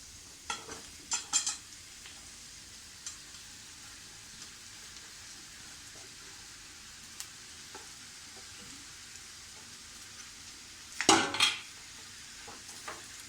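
Potatoes fry with turmeric in a pan on a low flame, giving a quiet, steady sizzle. Occasional spatula scrapes and clinks stand out, including a louder clatter near the end.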